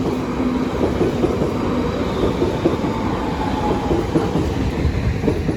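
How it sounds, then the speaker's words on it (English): A Belmond Pullman train rumbles steadily past the Deal level crossing, its wheels clattering on the rails loud and close throughout. "Train on 5090 just getting in."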